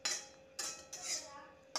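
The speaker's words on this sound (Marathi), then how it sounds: "ते भाजून घेऊया कढईत. हलकं भाजून घ्यायचं आहे." Grated coconut dry-roasting in a kadhai, heard as a few close metallic scrapes and clinks of a spatula stirring against the pan, coming in short bursts with quiet gaps between.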